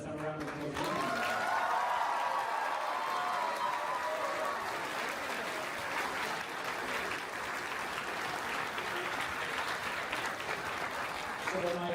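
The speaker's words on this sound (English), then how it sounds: "Let's have a round of applause" A large audience at a community livestream event gives a sustained round of applause, dense and steady for the whole stretch, with some cheering and a brief tonal whistle-like sound early on.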